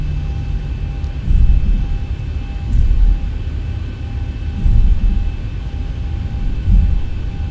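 A jet airliner's engines on a taxiway, heard as a steady low roar with a faint high whine, swelling and easing in slow waves as the throttle is cut.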